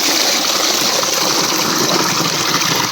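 Water from a fully opened tap gushes into a bucket in a village yard, a loud, continuous rushing splash that stays steady and unbroken for the whole stretch.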